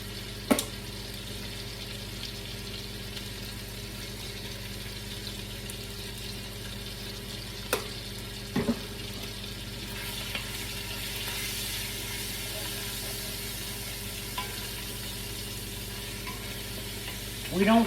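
Garlic sizzles steadily in a pan for an Italian sugo, with basil flakes and parsley in, a continuous close fry broken by a few sharp clinks of a utensil against the pan.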